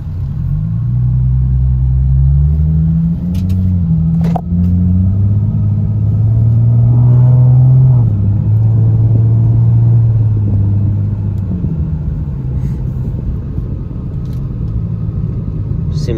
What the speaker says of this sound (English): I'm gonna drive it, let you see it shift through a couple gears